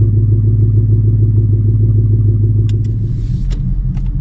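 A Coyote-swapped 2008 Mustang V8 rumbles loudly from inside the car as it pulls away, a deep pulsing idle-to-drive throb with a few clicks and clatters near the end.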